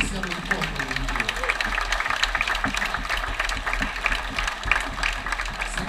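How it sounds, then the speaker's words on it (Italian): Crowd applause at an outdoor religious feast of the Santissimo Salvatore in Pazzano: sustained, dense clapping from a crowd, with a steady low hum and some voices. "Facciamo un applauso a tutti noi"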